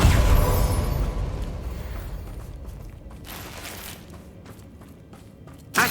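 A Confringo blasting spell explodes in Hogwarts Legacy, a loud burst that rumbles and decays with creaking, crackling debris, trailing off before a sharp new hit right at the end.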